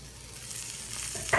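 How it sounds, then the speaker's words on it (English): Garlic sizzles steadily in a hot pan of shrimp, a continuous frying hiss that swells into a louder, brighter crackle near the end as more goes in. "As you can hear, our garlic started to sizzle"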